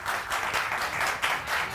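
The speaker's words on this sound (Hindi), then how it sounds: "इनके लिए बहुत सारी तालियां बजाइए जी।" A studio audience on a TV morning show applauds, a dense, steady wash of clapping that swells slightly and continues throughout.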